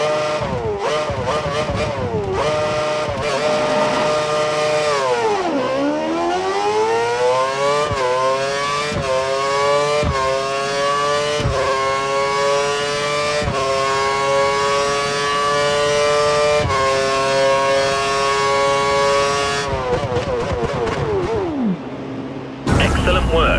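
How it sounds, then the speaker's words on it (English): A Formula 1 car in F1 2013 screams up through the gears in rising, high-pitched bursts with sharp shift cuts, holds a sustained howl at speed, then drops in pitch and cuts out as it brakes to a stop. "Head down the track accelerating past 160 miles per hour, then brake so that you come to a complete stop in the designated area."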